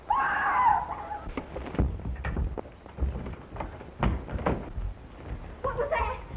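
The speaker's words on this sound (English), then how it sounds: "Where did that scream come from?" A shrill scream rings out at the start in an old black-and-white monster movie, followed by thumps, footsteps and muffled movement, with another brief cry near the end.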